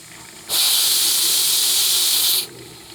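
Loud, steady steam hiss from the boiler of a live steam launch running at full steam, starting abruptly, holding for about two seconds and cutting off sharply.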